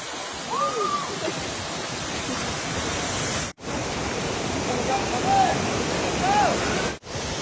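A river on Siquijor rushes steadily in a loud, unbroken broadband wash, with a few faint high chirps rising above it.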